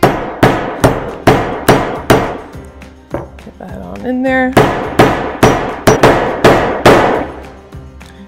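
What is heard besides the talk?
hammer tapping spindle bushing into place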